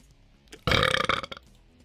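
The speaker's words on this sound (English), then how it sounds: "Egg burp." A man lets out one long, loud, rumbling burp at close range, rising abruptly and sputtering for about half a second before trailing off into quiet.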